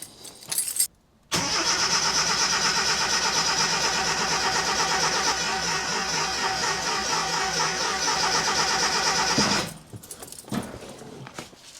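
A Toyota Corolla KE20 engine cranks briefly, then fires and runs loud and close for several seconds with a rough, busy idle before cutting back to a quieter tail; no speech.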